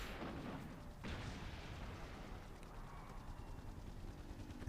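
A rocket launcher fires in Resident Evil 3: Nemesis on GameCube, a deep booming blast that rumbles out amid game noise, followed by a sustained low roar.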